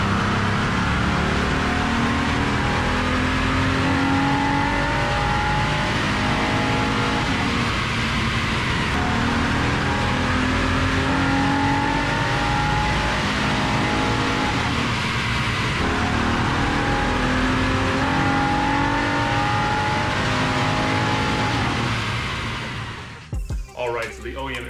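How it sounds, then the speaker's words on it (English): A Honda held at full throttle in third gear on a dyno, with a loud, steady engine roar that runs for over twenty seconds before cutting off abruptly near the end. "you can't make the third gear full throttle pull until you're at 4000 RPMs"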